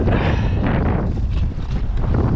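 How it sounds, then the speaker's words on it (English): Strong wind roars and buffets the microphone at a boat ramp during a night fishing outing, a steady loud rumble with gusty surges and no voices. "Like I said, it is windy."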